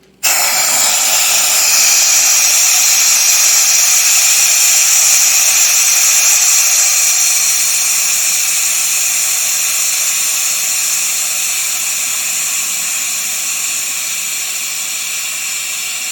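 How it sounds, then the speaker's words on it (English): Steady loud hiss of steam venting from an electric pressure cooker after it is switched off, a continuous broadband rush that starts abruptly and stays strong, easing slightly toward the end. "I'm waiting for all the steam to come out."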